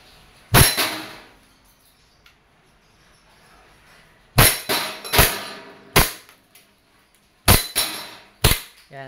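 A WE Glock 34 Gen 4 gas airsoft pistol fires seven sharp, loud pops with echoing tails: one shot, a pause, then quick irregular shots in two groups, with no talking.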